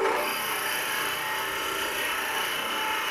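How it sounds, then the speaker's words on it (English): A wood lathe spins a wooden box blank with a steady, dense whirring rush, continuous and fairly loud, with a faint rasping texture throughout and no talking. "Let's turn the lathe back on."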